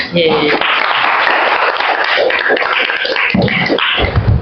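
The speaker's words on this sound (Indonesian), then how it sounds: "Tepuk tangan." Students in a class applaud, a loud burst of clapping that runs steadily for several seconds, with some voices over it.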